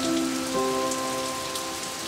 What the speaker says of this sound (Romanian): Yeri și Clara au mers la peșteri și stăteau acolo privind picăturile de ploaie.